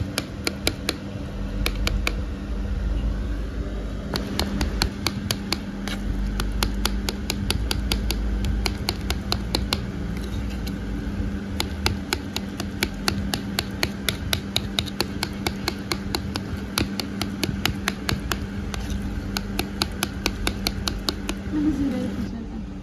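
Roasted, softened eggplant is mashed and rubbed with garlic by hand. Evenly spaced sharp taps and squelches repeat steadily for over twenty seconds over a constant low background hum.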